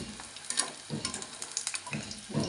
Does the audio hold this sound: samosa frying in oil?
yes